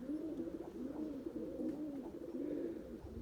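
Pigeons cooing close by in a pigeon loft, a soft, repeated rolling coo that rises and falls steadily throughout, with no voices over it.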